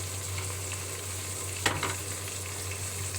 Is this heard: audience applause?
no